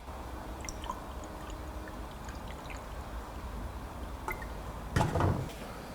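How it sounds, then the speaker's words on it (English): Liquid is poured into cylinder 2 of a Ford Escort Mk2 1600 Sport engine to check for leaking inlet valves, giving a soft steady trickle under background hiss, with a brief louder splashing burst near the end. "Let's pour it all of it, to be honest, and see if we got any inlet valves leaking."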